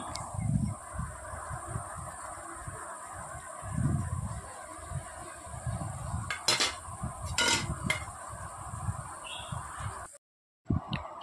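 Pointed gourd (potol) being stirred into spiced masala in a pan, with metal utensil scrapes and clinks over a steady sizzle, a couple of sharper knocks, then a sudden cutoff near the end.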